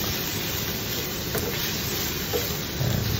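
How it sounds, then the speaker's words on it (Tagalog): Pancit noodles with chicken breast are stirred and sautéed in a pan, a soft steady sizzle and hiss with faint scraping of the utensil, quiet and continuous. "Halo-haloin lang natin guys. Antayin natin na magisa natin ng maayos."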